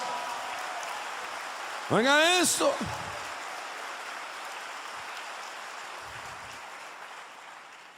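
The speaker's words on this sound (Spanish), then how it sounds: "dele palmas al Señor de la gloria" A church congregation claps in a steady, dense wash of applause throughout, and a voice briefly speaks over it.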